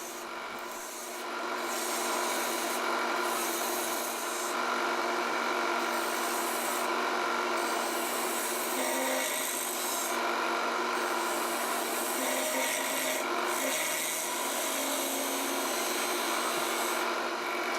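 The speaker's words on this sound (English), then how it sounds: "using my detail gouge, it's just a question of turning that ball, which is really a big bead" Wood turned on a lathe with a detail gouge to shape a ball gives a continuous scraping, rasping hiss over the hum of the spinning lathe, with brief pauses between cuts.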